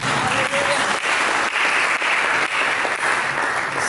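A church congregation applauds during a sermon, a steady, dense wash of clapping from many hands that holds evenly throughout with no voices on top.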